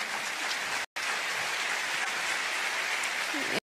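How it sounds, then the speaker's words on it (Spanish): Church congregation applauding during a Spanish-language service, a steady wash of clapping that runs on with only one brief break, loud and close throughout. "Vamos a darle un aplauso al Señor."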